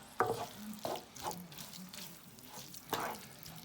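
Lasagne filling being stirred in a pan, with a few distinct scraping strokes of a spoon through the mixture over a low sizzle, close and fairly quiet.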